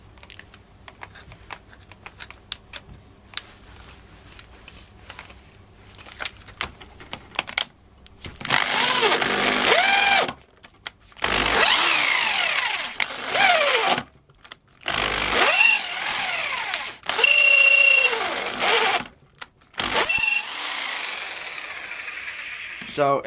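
A Black and Decker KR705K hammer drill bores a 16 mm hole in loud, rough bursts separated by short pauses, following a stretch of light tapping and clicking at the start.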